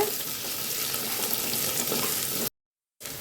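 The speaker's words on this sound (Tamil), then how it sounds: "வெங்காயம் நல்லா வதங்கிட்டு இருக்குங்க. இப்போ நம்ம எடுத்து வச்சிருக்க கருவேப்பிலையை போட்டுக்கலாங்க. இதையும் சேர்த்து நல்லா கிளறி விட்டுடலாங்க." Onions and curry leaves sauté in a pan for a stingray fish curry, a continuous bright frying hiss and crackle under stirring that cuts off abruptly into silence near the end.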